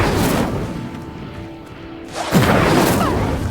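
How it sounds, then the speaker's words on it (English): In the Hogwarts Legacy video game, an Incendio fire spell ignites a pyre: a loud roaring whoosh fades into a quieter hum, then a fresh burst of crackling flame swells back up and holds. "The flames make the pyre sink."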